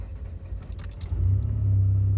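A hot Mazda RX-8 rotary engine cranks briefly and catches, settling into a steady low idle rumble that holds loud and even after starting.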